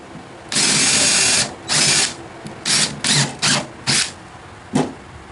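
Power drill boring a 3/8 inch deep screw hole in wood for a glider bench, one longer whirring burst followed by several short, sharp pulses of high-pitched drilling, close by with no talk.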